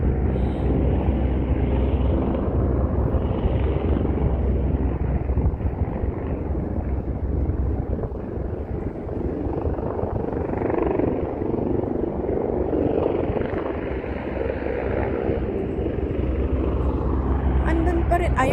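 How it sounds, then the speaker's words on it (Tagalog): A helicopter takes off over Victoria Harbour in Hong Kong, its rotor drone steady and fairly loud for the whole stretch, mixed with wind buffeting on the microphone. "Nag-take off ulit ang helicopter."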